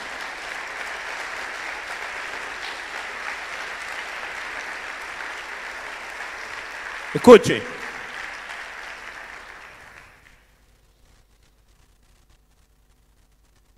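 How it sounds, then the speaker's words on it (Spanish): A church congregation applauds at a Sunday service: a steady, dense round of clapping for about ten seconds, briefly topped by a louder voice and sharp claps near the end before it cuts to silence. "Si va a aplaudir, aplauda en serio."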